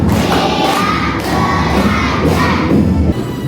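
Children in a classroom clap together through a counting clap chant, sharp group claps landing in rhythmic bursts amid excited crowd noise and shouting close by.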